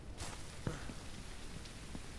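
Steady rain in the farming video game Ranch Simulator, a soft even hiss of falling drops with a faint thump or two, no voices.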